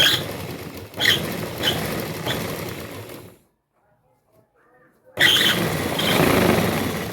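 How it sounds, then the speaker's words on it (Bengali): Motorised sewing machine stitching seams on a handmade bag, running in several short bursts, then stopping for about two seconds before starting up again loudly. "তো হালকা করে আমি সেলাই স্টার্ট করব মোটরে, আর এখানে চাপটা দিয়ে রাখবো।"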